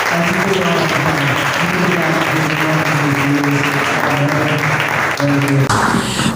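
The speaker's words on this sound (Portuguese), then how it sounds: "E a igreja te aplaude bem forte" Church congregation applauding loudly at a worship revival gathering, a dense, sustained wash of clapping under sung or held tones that carries steadily to the end.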